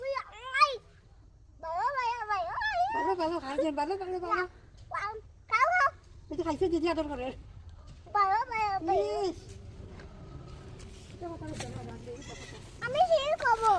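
Wavering bleats repeat on and off, close by, mixed with a child's and an adult's speech in between.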